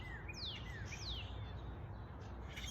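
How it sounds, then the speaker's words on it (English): Spring birdsong outdoors: a few quick, high descending chirps and whistles in the first half, fairly faint over a low steady background hum, no voices. "All the blooming that He's bringing to us. The pretty birds with their song."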